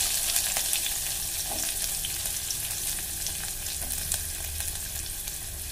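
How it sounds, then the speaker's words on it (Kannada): Onions hitting hot oil with mustard seeds and cumin for an aloo matar curry, a steady close sizzle and crackle throughout with faint stirring clicks, no voices. "ಈರುಳ್ಳಿ ಹಾಕ್ತೇನೆ,"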